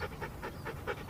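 A husky pants rhythmically during training, about five quick breathy pulses close by, steady and alone.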